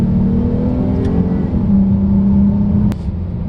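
A 2018 Dodge Charger with the Sport Package accelerates down a stretch of road, heard from inside as a loud, steady engine drone whose pitch climbs and then holds level.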